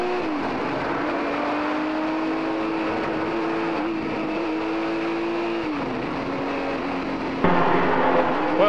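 A field of Porsche 935 and 934 race cars accelerates at the green flag, with loud, continuous engine roar and rising and falling gear-change pitch, then a sharper surge near the end.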